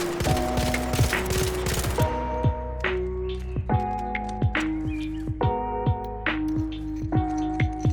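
Arpeggio weapon fitted with muzzle brakes firing in the Arc Raiders video game: repeated rapid three-round bursts, each a tight cluster of sharp cracks with ringing tonal tails, loud and close, several volleys in succession.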